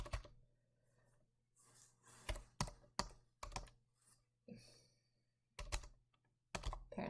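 Typing on a computer keyboard comes in short bursts of close, sharp clicks and taps, separated by brief pauses in a quiet room.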